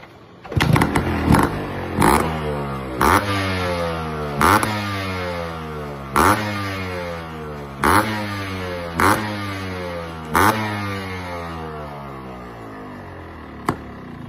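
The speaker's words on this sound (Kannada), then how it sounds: "ಇದು ರನ್ನಿಂಗ್ ಮಾಡಿ ತೋರಿಸ್ತೀನಿ ನೋಡಿ." A two-stroke Yamaha RX100 motorcycle engine idles close by with a crisp, popping exhaust, revved in a series of sharp blips that rise and fall back to idle about every second or two, with no talking.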